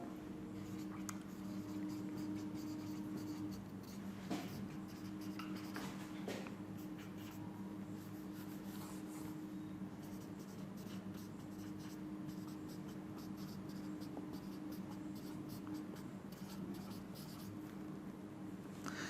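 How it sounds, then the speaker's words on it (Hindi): Pen or marker scratches steadily against a board or paper while notes are written, a close, continuous scraping with small taps, over a faint room hum. "मैं लिख देता हूं"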